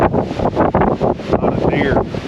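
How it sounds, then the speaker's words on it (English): Loud, gusty wind buffets the microphone in heavy rumbling bursts, rising and falling over a couple of seconds, outdoors in Kansas. "Pretty windy."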